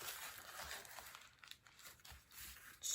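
A paper coffee filter folded in half by hand, making soft close crinkling and rustling for a few seconds, faint and uneven, ending in a brief louder crinkle.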